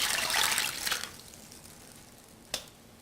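Water is poured into an electric wok holding mushrooms and chicken broth, giving a soft splashing trickle for about a second, then quiet with a single sharp tap near the end.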